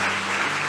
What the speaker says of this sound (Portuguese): Dê um aplauso ao Senhor bem forte.